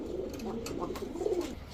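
Teddy and Road Master pigeons at a seller's stall coo softly in low, rolling murmurs, overlapping and continuous at a modest distance.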